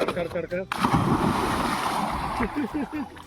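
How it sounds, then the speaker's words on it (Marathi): Water splashes and surges as someone swims in a village lake, a broad wash of churning water under close, loud voices talking and shouting. "पुन्हा मी पाण्यामध्ये जाणार आहे"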